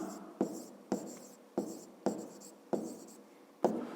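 Numbers being written by hand during a fifth-grade maths lesson: six distinct pen strokes scratching across paper at a steady pace, close and fairly quiet, each a short scrape that fades out.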